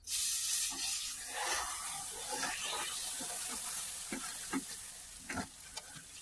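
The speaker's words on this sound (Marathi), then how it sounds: "आता त्याच्यात आपण हळूहळू दूध टाकूया, आस्ते आस्ते टाकायचे" Milk poured slowly into a pan of hot caramelized sugar for malai kulfi, giving a loud, steady sizzle and hiss that gradually settles into softer bubbling with a few stirring scrapes, with no voices.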